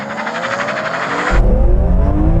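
BMW M3 launching hard off the line at the start of a drag race against an E92, a loud engine roar whose pitch climbs steadily, then a deep low-end surge as it pulls away.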